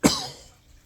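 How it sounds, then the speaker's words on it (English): A single sharp, close cough after a puff from a blunt, bursting out suddenly and trailing off into a fading breathy rasp. "you cough"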